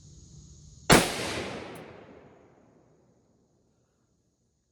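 A single loud shot from a Remington Rolling Block No. 5 rifle cracks sharply and then rolls away in a long, fading outdoor echo, with no voices.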